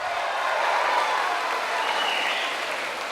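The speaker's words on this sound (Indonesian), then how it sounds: "Kita berikan aplaus dulu, tepuk tangan kepada 3 pasangan calon kita pada sore hari ini." An audience at a public debate for mayoral candidates in Sabang applauds, giving a dense, steady wash of clapping that holds at an even level throughout.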